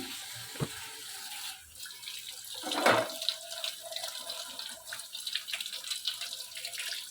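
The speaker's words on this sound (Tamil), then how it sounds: "ஒலி எடுத்துட்டு நம்ம தண்ணியில் நல்லா அலசி எடுத்துக்கணும்" Tap water runs and splashes as radish is washed in a kitchen, a steady close stream with brief louder splashes partway through and no talk.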